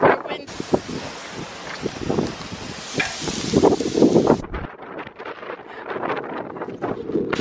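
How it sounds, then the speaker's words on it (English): Strong, dusty wind blows hard across the microphone outdoors, a loud, constant rushing buffet that swells and dips, with voices talking beneath it. "It's so dusty and windy, and it's crazy."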